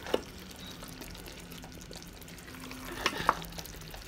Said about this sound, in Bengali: এখন ঢাকনা দিয়ে মশলাগুলো ভালো করে কষাইব।